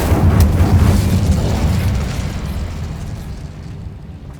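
Confringo and Incendio spell blasts in Hogwarts Legacy go off as a loud booming burst with a crackling roar, then decay slowly into a fading rumble.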